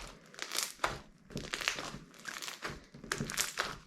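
Slime made from plasticine, shampoo and toothpaste, mixed with foam balls, crinkles and crunches close up as it is squeezed and stretched, in three bursts of dense crackling with brief lulls between, no voice over it.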